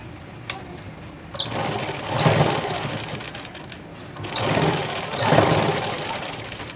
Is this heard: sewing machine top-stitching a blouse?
yes